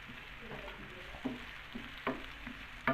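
Thinly sliced medium onion dropped into hot oil in a pan, a steady close sizzle with a few soft stirring knocks, no talking.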